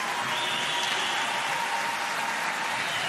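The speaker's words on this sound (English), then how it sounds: "a nice applause from the crowd, even though the home side's down a couple" Crowd applause at an international under-18 ice hockey game between Germany and Canada, a steady wash of clapping from the arena stands filling the whole stretch with no talk over it.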